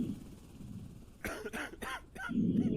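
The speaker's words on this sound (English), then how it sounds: "Can you try not to cough in my face?" A patient coughs in the video game Quarantine Zone: The Last Check, a cluster of three or four harsh, close coughs in quick succession over a low background hum.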